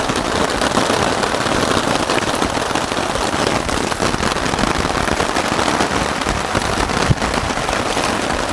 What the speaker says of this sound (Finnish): Ja sade on ihan törkeen kova